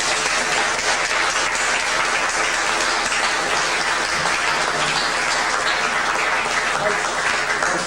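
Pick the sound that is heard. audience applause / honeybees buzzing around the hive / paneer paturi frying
audience applause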